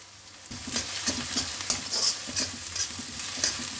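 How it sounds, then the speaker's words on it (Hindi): Garlic, chopped onion and capsicum fry in a pan with a bright, steady sizzle that starts suddenly, close and loud, while repeated stirring scrapes through it and no one talks. "अब इसमें मैं डाल दूंगी चॉप्ड ऑनियन, और उसके साथ मैंने यहाँ पे थोड़ा सा कैप्सिकम चॉप करके लिया है तो उसको मैं डाल दूंगी यहाँ पे।"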